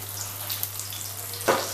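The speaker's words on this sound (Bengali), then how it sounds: "এগুলোকে আস্তে আস্তে আমি এগুলোকে এর তেলের উপরে দিয়ে দেব" Pumpkin pieces go into hot mustard oil, a soft, steady sizzle with a brief louder splash of frying near the end.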